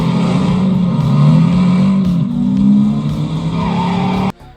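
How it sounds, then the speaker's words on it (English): A 2011 Ford Mustang GT, a stock V8 muscle car driven hard in a movie chase scene, roars loudly and continuously with revving engine and squealing tires, cutting off abruptly near the end. "that scene is when he's in a 2011 Ford Mustang GT"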